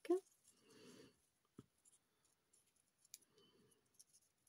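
Scissors snip a paper shape to a point in a few close, soft cuts, with quiet handling noise between them and no talking.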